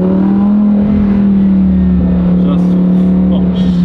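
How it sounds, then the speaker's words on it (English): A Lamborghini Huracan EVO's naturally aspirated V10 engine droning at high revs, close up, its steady roar filling the air, with a voice briefly talking over it. "One of the last of its kind, naturally aspirated V10 engine."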